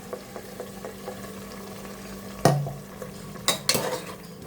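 Ground raw spinach masala going into cooked tomatoes in a pan and being stirred: a soft steady sizzle under light scraping, with a sharp spoon clank, a splatter and a couple of metallic scrapes toward the end.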